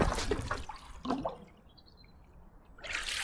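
An aluminium stand-up paddle from a budget Marcello paddleboard drops into water for a float check, giving a splashy burst of dripping and sloshing, then a quieter lull before another burst of water noise near the end.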